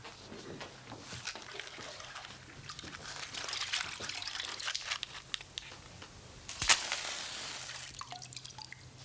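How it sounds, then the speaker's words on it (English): Water sprinkled onto a small heap of burning straw, giving soft dripping, trickling and faint hissing with a sharper splash partway through, set against a low steady hum. "will you sprinkle it with water?"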